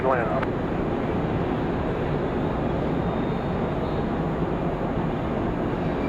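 An Air France airliner departs Raleigh Durham airport for Paris at night, its engines a steady, broad distant roar holding evenly throughout with no break.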